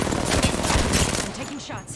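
Rapid gunfire in the video game Apex Legends comes as a dense, loud burst of repeated shots that tapers off near the end, with speech mixed in.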